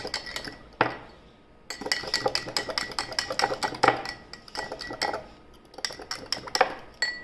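A fork or whisk beats eggs in a bowl for an omelet, making rapid rhythmic clinks and taps against the bowl in bursts, with short pauses between rounds of mixing.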